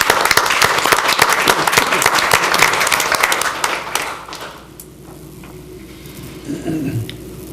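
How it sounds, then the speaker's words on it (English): Applause for a scout troop at a city council meeting in Tupelo: a loud round of clapping from the room for about four seconds, then it fades out into quiet room tone with faint movement. "Let's give them a big round of applause."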